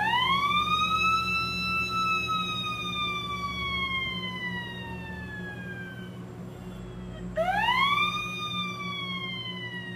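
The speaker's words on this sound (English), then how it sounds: "is the Acme Siren Whistle." Acme Siren Whistle blown close, giving a long siren-like wail that slides downward over several seconds, then a second rising blast begins, clear over a faint steady hum.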